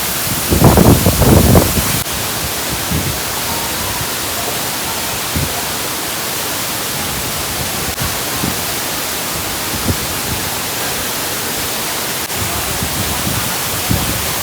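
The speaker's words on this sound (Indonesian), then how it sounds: "kita udah selesai di air terjun Lawe ya" Curug Lawe waterfall at the foot of Mount Ungaran in Java roars as a dense, steady broadband rush, loud and unbroken, with a few brief louder bursts near the start and no talk.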